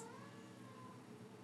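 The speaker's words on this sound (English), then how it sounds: "You can probably hear my cat meowing in the background." A cat meows faintly in the background, one drawn-out rising and falling call heard softly at a distance in a quiet room during a home Pilates session.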